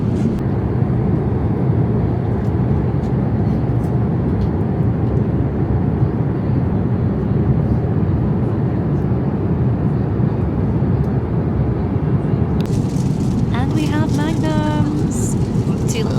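A steady, loud, broadband roar of airplane cabin noise fills a long-haul flight from Heathrow to LAX, unbroken throughout, with brief chimes or small clinks near the end.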